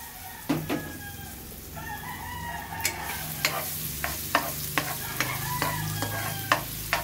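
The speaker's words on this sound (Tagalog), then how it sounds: "Nagigisa na tayo ng bawang." Garlic sautés in olive oil, a steady low sizzle with repeated sharp spatula taps and scrapes against the pan, while a rooster crows faintly in the background.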